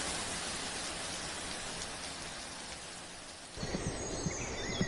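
Dense, steady rainfall hissing evenly, with a few heavier drops and faint chirps toward the end.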